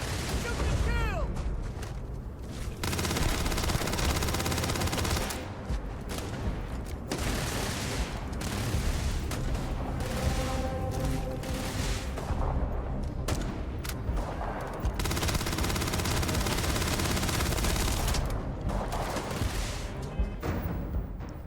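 Bursts of gunfire ring out in the video game Starfield, with loud volleys and rapid firing broken by short lulls and booming impacts over about twenty seconds.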